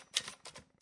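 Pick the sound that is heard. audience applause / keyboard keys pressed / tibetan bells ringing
keyboard keys pressed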